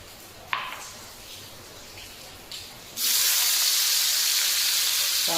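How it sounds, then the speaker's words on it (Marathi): A quiet hiss steadies, then at the midpoint a loud, broadband sizzle erupts and holds as onion is dropped into hot oil in a kadhai and fries vigorously. "तेल कढईमध्ये टाकून घ्यायचे आणि लगेचच कांदा तळण्यासाठी टाकून द्यायचा आहे"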